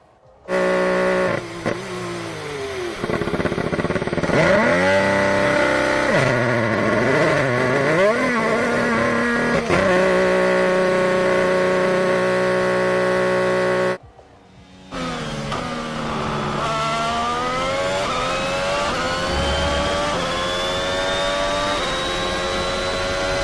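Formula One race cars from the F1 22 video game run wheel to wheel, their high-pitched engines screaming loud and steady with rising and falling revs, a brief drop near the middle before the roar resumes.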